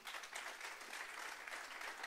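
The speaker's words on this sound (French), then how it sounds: "je voudrais qu'on applaudisse Guillaume" Faint, steady applause from an audience at an evening health debate in Toulouse, a continuous even patter of many hands heard from a distance.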